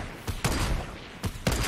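Gunfire in the video game Fortnite, a few sharp bursts of shots spaced apart over a continuous background rumble, fairly loud and close.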